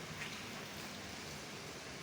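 Steady rain falling outdoors, a dense even hiss that fills the whole stretch at constant level with no clear individual drops or other sounds.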